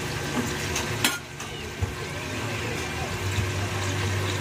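Squash, string beans, eggplant and water spinach are sautéed in a pan, producing a constant moderate sizzle with a couple of scraping stirs and bumps.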